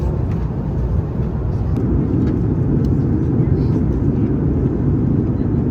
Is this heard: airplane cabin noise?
yes